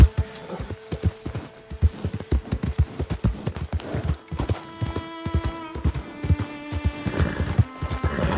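Horse hooves clip-clopping in Red Dead Redemption 2, a steady rhythmic trot of loud, close hoofbeats continuing throughout, with a faint whinny and game ambience beneath.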